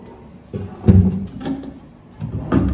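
A drawer slides open with a few wooden bumps and scrapes, close by, the knocks coming in short bursts with quiet between them.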